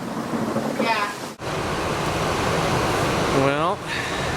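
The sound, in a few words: heavy rain during thunderstorm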